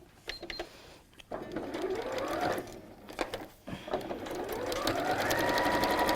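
A sewing machine stitches straight down the middle of fabric for a pleated bag, running in bursts with short pauses and a rising whir as it speeds up, close and clear with no talk.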